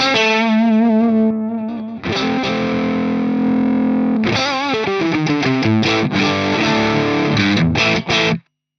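Electric guitar run through an Electric Eye Audio Mud Killer overdrive pedal with its comp switch set right, playing loud, thick distorted bluesy chords and sustained notes, then choppier strummed phrases that cut off abruptly at the end.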